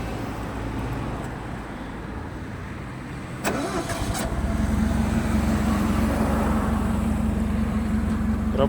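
A Mitsubishi FG15 1.5-tonne forklift engine cranks briefly and catches, then settles into a steady, even idle after quiet background noise.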